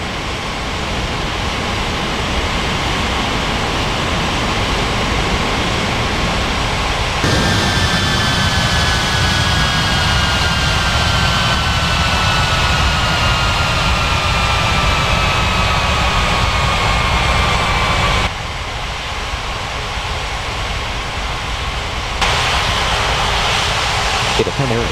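A jet airliner on the runway at São Paulo airport gives a loud, continuous roar with a whine that slowly falls in pitch, while radio voices talk over it.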